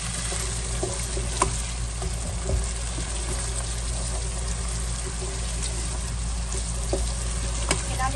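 Onions frying in a pan for a home okra dish, a steady close sizzle with faint scattered clicks of a utensil, continuous and without talk.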